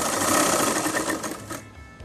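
Sewing machine running steadily while hemming a saree fall, a close, continuous whirring stitch that slows and stops near the end, with no voices.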